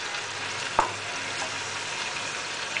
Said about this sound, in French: Maintenant, je mets des grosses crevettes.